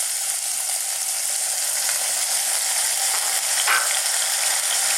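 Sweet pork stir-frying in a hot wok sizzles steadily as soy sauce goes in, a loud, even hiss of frying that holds throughout with no voices.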